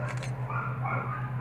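A Great Dane/Mastiff mix puppy at a South Central Los Angeles animal shelter gives short whimpering yips over a constant low mechanical hum, fairly close and moderately loud.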